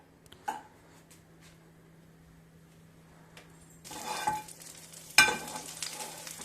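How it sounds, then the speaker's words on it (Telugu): Paneer pieces frying in butter in a pan, quiet at first with a few scraping stirs, then a louder burst of sizzling and clattering stirs near the end. "ఈ బటర్లో పన్నీర్ ముక్కల్ని దోరగా వేపేసుకున్నాము"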